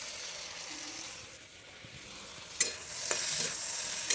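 Ridge gourd and potato pieces frying in mustard oil give a soft, close sizzle, then sharper bursts of scraping and stirring near the end, with no voices.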